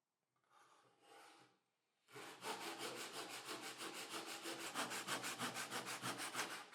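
A hand saw cuts wood in an adjustable miter box, opening with a couple of soft tentative strokes before settling into a fast, even rhythm of loud rasping back-and-forth strokes, close up.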